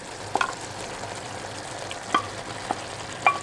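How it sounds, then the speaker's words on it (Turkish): Eggplant goes into a pan of tomatoes already cooking, giving a soft low sizzle with a few sharp pops and clicks at intervals, close by and quiet. "Şimdi patlıcanını ilave ediyorum."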